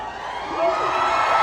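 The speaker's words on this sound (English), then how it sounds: "You don't have to cheer after everything." Audience at a Hazbin Hotel panel at MCM Comic Con London gives a brief burst of cheering and whoops, a moderate crowd roar that rises midway and holds steady.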